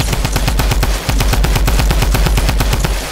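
Loud automatic gunfire from a shooter video game hammers away in rapid, evenly spaced shots with only a brief pause, close and dominant with no talking.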